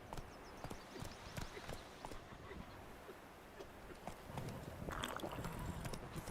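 Hooves of a horse in The Witcher 3 clip-clopping steadily at a trot, fairly quiet beneath game ambience with faint speech.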